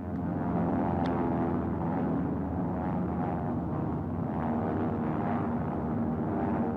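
A WWII bomber flies with one engine shot out, its remaining motors producing a steady, dense droning roar that holds at an even level throughout.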